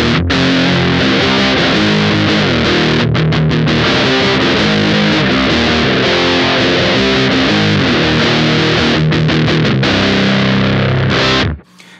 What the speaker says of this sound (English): this is our bass fuzz slash distortion sound.